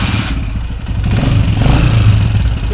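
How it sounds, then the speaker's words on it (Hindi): A Honda CG 125 motorcycle engine, just reassembled after a bolt repair for an engine noise problem, runs loud and close with a steady, slightly clattering idle throughout, without any speech. "और अब हम बाइक को दोबारा करने लगे स्टार्ट"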